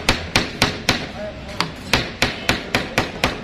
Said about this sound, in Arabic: امسك الشاكوش ده الشاكوش وادي المسمار هتكمله الدق معاه اهو